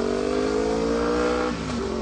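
Sport bikes screaming past on a winding mountain road, a loud sustained high-revving engine whine that holds steady and then begins to shift as the machine goes by.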